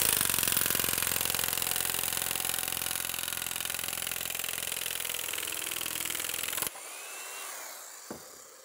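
A Metabo nibbler chews through sheet metal with a loud, steady buzzing rattle for several seconds, then cuts off abruptly, leaving quieter background noise and a brief knock.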